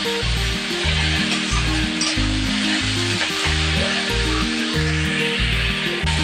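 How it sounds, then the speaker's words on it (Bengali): Eggplant and potato with turmeric fry in an oiled pan, a steady close sizzle with scraping stirs, over a loud repeating low hum that runs throughout. "বেগুন আর আলুটাকে একটু ভেজে নেব"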